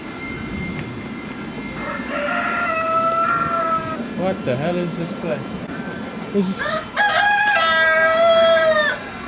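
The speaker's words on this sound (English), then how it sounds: "There's some giant chickens and cockerels." A rooster crows loudly, with a second crow following moments later, under a man's speech and a steady background rumble, with large chickens nearby.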